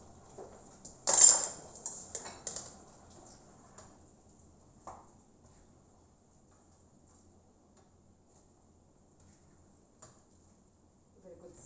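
Drained chickpeas tipped into a pot of vegetable curry, a burst of clattering and tumbling clinks near the start followed by a few lighter knocks, then mostly quiet with a faint clink later.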